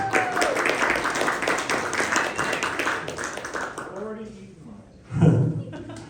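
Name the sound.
audience applause at open mic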